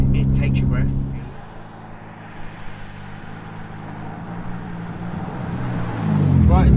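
A tuned 900bhp Audi RS3 8P engine drones from inside the cabin, a low steady harmonic hum that dips and then swells as revs climb near the end, heard under people talking.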